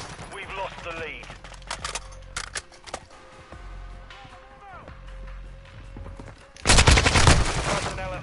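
Gunfire in a multiplayer video game firefight: scattered sharp shots and bursts amid in-game voice callouts, ending in a loud sustained volley of rapid fire.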